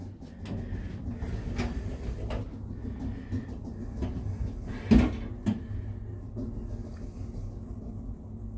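Lift doors at the ground floor of a WHSmith shop in Loughborough sliding with a low mechanical rumble and a soft thud as they close, under faint shop ambience.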